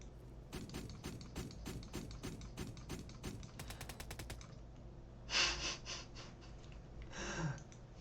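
Rapid bursts of automatic gunfire from a video game, several rhythmic volleys in a row, followed by two louder breathy gasps.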